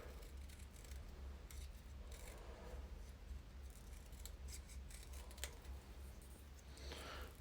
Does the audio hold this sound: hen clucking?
no